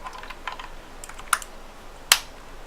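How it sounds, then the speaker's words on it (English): Keys clack on a Skorpion K2 RGB mechanical gaming keyboard, a handful of light, sparse taps with two sharper louder strokes, close and alone. "And it sounds pretty nice, as just a keyboard."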